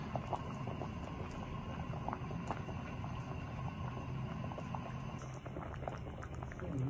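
A pot of sinigang na bangus with banana heart boiling away, a steady bubbling, crackling simmer heard close and alone.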